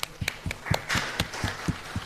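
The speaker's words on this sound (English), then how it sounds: "I think we must give him a hand of applause for that" Slow, evenly spaced claps ring out at an economic policy dialogue, about nine distinct hand claps in a steady rhythm, fairly close, with a light murmur of more applause behind them.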